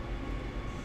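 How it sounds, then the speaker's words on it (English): Rapid transit train in Train Sim World running at speed, a steady low rumbling drone with broadband hiss, continuous and unbroken through the short moment. "This train is not slowing down now."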